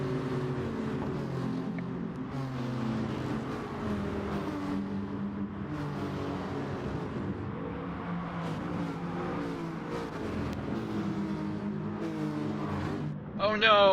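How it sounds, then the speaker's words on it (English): Racing car engines, including a Nissan GT-R, in a sim racing game, with a continuous layered engine drone and shifting revs under ongoing commentary, and a sharper engine surge at the very end. "Damian Black in the Nissan GTR already advancing from 15th place into the top 5"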